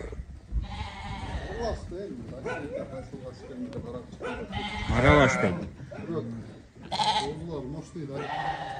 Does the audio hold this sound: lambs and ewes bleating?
yes